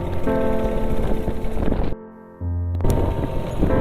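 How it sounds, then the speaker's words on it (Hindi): Stormy wind and heavy rain with hail pound a mountain road in Uttarakhand, a loud continuous roar that drops out briefly before surging back. "तूफान देख रहे हो, तूफान इतना चल रहा है।"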